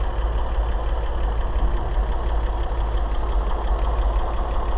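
A 1965 International R185 truck engine idles after a cold start, a loud, steady low rumble with a rough, knocking pulse, alone and unbroken.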